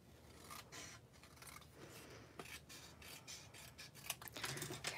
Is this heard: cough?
no